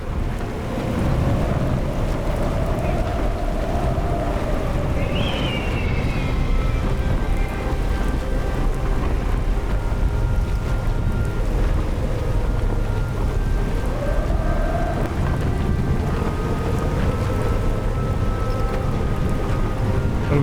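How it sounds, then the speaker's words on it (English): A stormy sea in the sailing game Sailaway 2, set in Hurricane Beryl: a loud, unbroken roar of wind and crashing waves, with whistling gusts rising and falling over it and no voices. "The waves are going to be insane."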